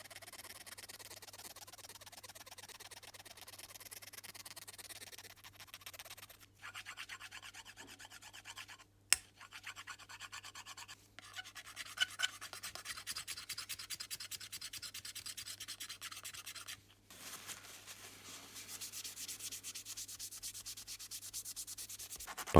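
A toothpick scratches and rubs at acrylic paint coating on a model, a steady dry rasping that scrapes back and forth close up, with brief pauses and a couple of sharper clicks, no talking.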